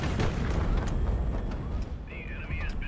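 A missile explosion in the naval-airship strategy video game HighFleet, heard as a dull, fairly quiet boom and rumble with scattered sharp pops over about three seconds.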